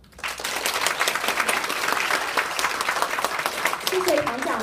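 Sustained audience applause fills a lecture hall at the close of a talk during a virtual-world workshop, dense steady clapping from a crowd lasting several seconds after a brief quiet start.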